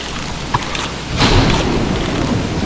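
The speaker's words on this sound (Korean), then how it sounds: "야 번개 떨어졌어" Thunder during a rainstorm in the video game Don't Starve, a sudden rumbling crack swelling midway through over steady hissing rain, close and loud, with no talking.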